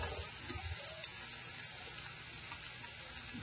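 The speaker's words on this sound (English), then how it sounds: "I like to cook the onion and garlic until the garlic's starting to turn a little brown" Onion and garlic fry steadily in a pan, giving a soft, continuous sizzle with faint crackles and no voices.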